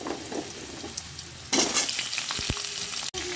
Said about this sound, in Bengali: এবারে কুমড়ো আলুগুলো দিয়ে দিচ্ছি